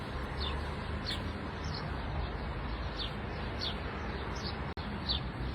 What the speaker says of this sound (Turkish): kuşların cıvıltılarını duyuyoruz